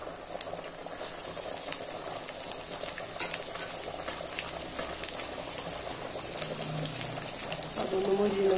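Shallots fry in hot coconut oil for a Thrissur-style backwater fish curry: a continuous bubbling sizzle with crackling pops runs throughout, steady and fairly close.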